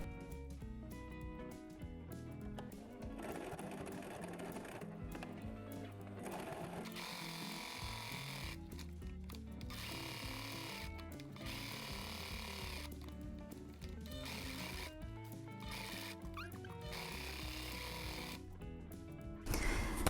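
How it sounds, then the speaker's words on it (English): Sewing machine top stitching around fabric scraps, a rapid mechanical whirring and clatter running in bursts with brief pauses, close and steady throughout. "I'm going to top stitch all around it"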